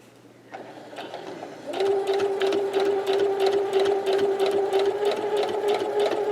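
Sewing machine stitching in the ditch of a quilt block, starting with a soft whir and then settling into a loud, rapid, steady mechanical rattle of needle strokes.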